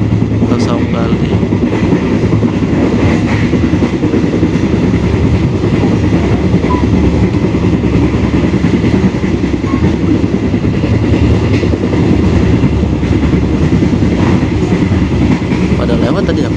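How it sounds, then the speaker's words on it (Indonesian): A passenger train passes on Indonesian tracks near Gedung Gede station, heard from aboard the Dharmawangsa service, a loud continuous rumble with rhythmic clickety-clack of wheels over rail joints throughout. "Pada lewat tadi ya keretanya"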